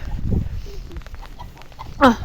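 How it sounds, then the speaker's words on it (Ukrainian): Chickens foraging in a rural yard, with a short clucking call near the end over low background noise and faint movement. "курі пасуться."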